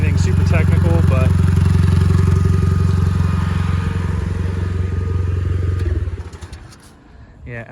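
An LE2 off-road buggy's engine drones steadily and close up while it crawls a West Virginia trail, with clattering from the chassis, then fades and sputters near the end.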